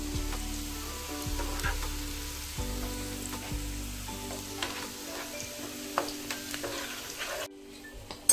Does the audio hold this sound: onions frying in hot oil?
yes